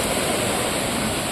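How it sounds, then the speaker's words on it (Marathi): A rain-swollen village river rushes past an RCC protection wall during heavy rain, a loud, dense, steady roar with no voices. "बघा नदीला आपल्या पाणी आलंय"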